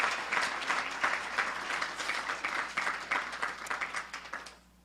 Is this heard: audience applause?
yes